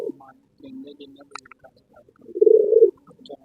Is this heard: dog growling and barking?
no